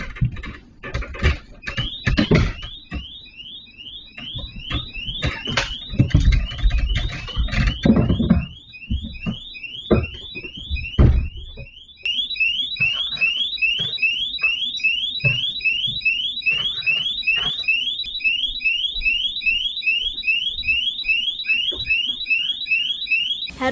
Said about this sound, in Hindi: अचानक जोर जोर से अलार्म बजने लगा।